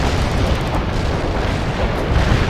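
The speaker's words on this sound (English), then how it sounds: "Artillery strike success" Artillery strike explosions in the World in Conflict video game, heard as a loud, dense, continuous rumble of booming blasts that fills the whole stretch without clear gaps.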